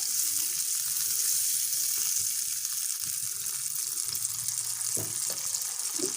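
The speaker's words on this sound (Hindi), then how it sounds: "थोड़ा सा पानी हम इसमें और ऐड करेंगे, तकरीबन 1/2 कप और ऐड किया है।" Water poured into fish curry in a hot pan, a steady hiss and sizzle of frying liquid with some faint clinks, continuous and close, with no talk.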